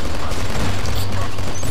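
Heavy, dense gunfire in the shooter Killzone 2, a loud continuous volley of rapid shots with mechanical clatter, close and alone.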